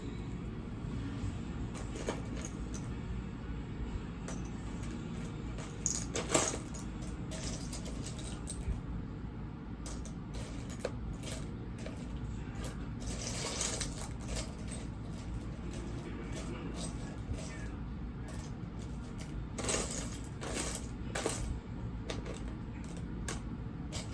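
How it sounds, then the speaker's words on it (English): Small plastic and metal sewing buttons, some military-style, being sorted through by hand, producing scattered light clicks and clacks over about twenty seconds against a quiet room background, with no talking. "gonna take me a while to go through all these buttons"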